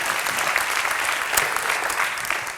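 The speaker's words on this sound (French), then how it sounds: "Florence, on vous applaudit." A conference audience at a congress breaks into dense, steady applause, close and loud, with a few individual claps standing out over about two and a half seconds.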